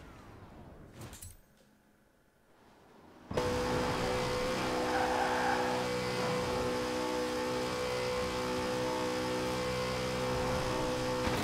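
Koenigsegg Agera RS engine at full top speed in Forza Horizon 4, a steady loud high-pitched drone with whine and wind rush that starts abruptly after a brief quiet dip and holds constant.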